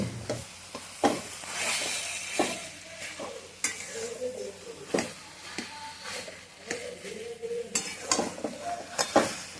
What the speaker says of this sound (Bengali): আমি চিংড়ি মাছটা অ্যাড করে ভালো করে মিশিয়ে নেব